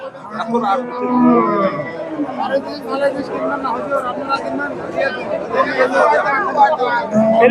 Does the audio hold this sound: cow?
yes